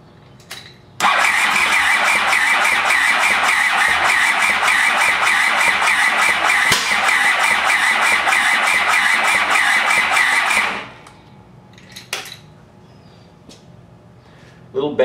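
A Honda CX500 motorcycle engine cranking on its first start after restoration, a loud steady whirring grind for about ten seconds that then cuts off, leaving faint small noises.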